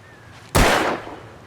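A single sharp gunshot cracks out in Alan Wake Remastered, loud and close, with a short decaying tail, standing alone after near silence.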